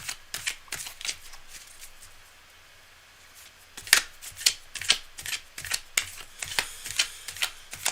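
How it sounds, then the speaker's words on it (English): Tarot cards shuffled by hand in a riffle-like run of crisp, rapid flicks, with a burst of quick snaps, a brief pause, then a steady series of sharper card slaps, close and fairly loud. "Cards are well shuffled."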